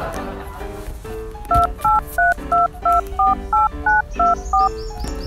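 A mobile phone keypad sounds a rapid series of about eleven crisp dual-tone beeps in an even rhythm, loud and close, over faint background noise.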